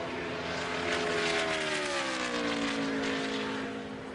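NASCAR stock car running a qualifying lap at the speedway, a loud, steady engine roar with a pitch that gradually drops, sustained throughout and close, with no talk.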